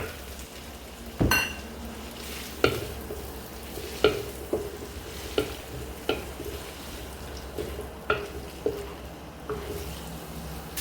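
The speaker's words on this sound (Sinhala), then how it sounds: "දැන් චිකන් එක බැදීගෙන ඉන්නේ" Chicken pieces frying in a pan for chicken fried rice, a steady sizzle broken by sharp clinks and scrapes of a utensil stirring against the pan every second or two.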